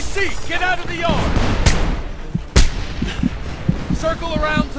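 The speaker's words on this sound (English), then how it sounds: "That cannon will tear you apart!" Cannon fire in the war shooter video game Homefront booms in a few sharp, heavy blasts amid scattered gunfire and battlefield noise, while soldiers shout over the combat.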